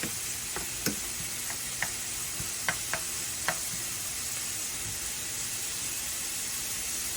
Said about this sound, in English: we're gonna pour in the diced tomatoes and toss in the okra, and then we're gonna stir it to combine it